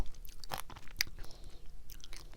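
Crunchy bites and chewing of strawberry tanghulu with a hard sugar shell, several sharp crackling snaps close to the mouth over a soft moist chewing background.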